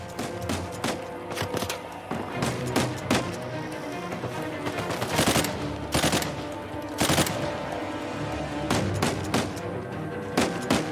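Rapid bursts of automatic gunfire and heavier shots in the action game Uncharted 4, loud and dense with repeated volleys and brief pauses, filling the whole stretch with no talk.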